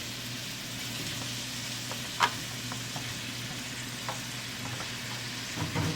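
Tofu and onion fry quietly in a pan for rice noodle beef soup, giving a steady low sizzle broken by a few light clinks and stirring sounds.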